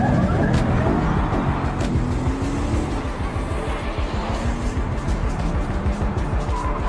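A car throws itself into reverse during a chase with a pickup truck, its engine revving hard under a dense, loud roar with tire noise and skidding, continuous throughout.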